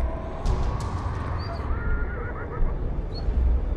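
Horses in the video game Beyond: Two Souls whinny and neigh several times over a dense rumbling game soundscape with faint hoof clatter, moderately loud and agitated, no talk.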